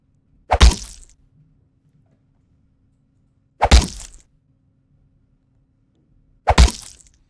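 Three identical crunching stab impacts, evenly spaced about three seconds apart, each sharp and close with a brief wet tail, heard alone.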